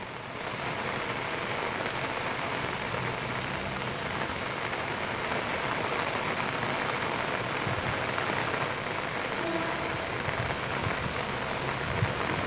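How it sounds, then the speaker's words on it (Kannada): Heavy monsoon rain pours down continuously in the Kodagu and Wayanad area of the Cauvery catchment, a dense, unbroken roar of drops on surfaces with no voices. "ಕೊಡಗು ವೈನಾಡಲ್ಲಿ ನಿರಂತರವಾಗಿ ಮಳೆ ಸುರಿತಾ ಇದೆ"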